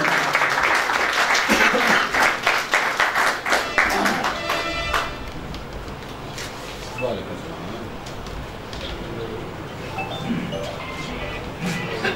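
Audience at a Punjabi poetry mushaira in Lodhran applauds to welcome a poet, dense clapping that is loud at first and then thins out and fades, with a speaking voice over the dwindling applause.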